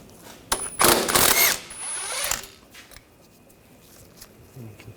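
A ratchet with a 15mm socket backs out flange bolts at the wheel hub during a rear wheel bearing job on a 2013-2022 Buick Encore. It gives one close, rasping burst of about two seconds, then quieter handling noise.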